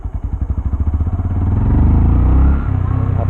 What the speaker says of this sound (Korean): 이 상태로 가고 스로틀을 한번 살짝 당겨 볼게요.